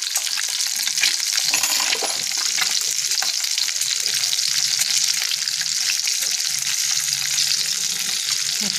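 Eggs frying in oil with a sprinkle of turmeric and salt, a dense, bright, continuous sizzle and crackle held steady at close range throughout.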